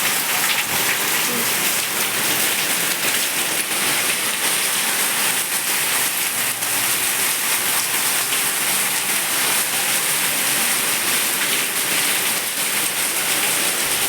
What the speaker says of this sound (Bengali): দেখো আমাদের এখানে বৃষ্টি শুরু হয়েছে এখন প্রচুর বৃষ্টি এসে গেছে